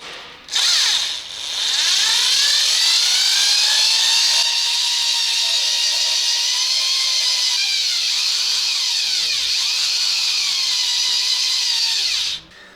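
Cylinder hone spinning inside a Toyota 2GR-FE 3.5 V6 engine block from a Highlander, a loud, sustained high-pitched drill whine with shifting squealing tones that starts abruptly and cuts off near the end.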